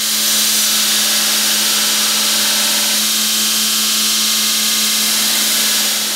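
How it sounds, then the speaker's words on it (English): Steady, loud grinding of Damascus steel kitchen knife blades on a power grinder, a continuous abrasive whine with a constant hum that holds for several seconds without talk. "we'll keep grinding on these bad boys"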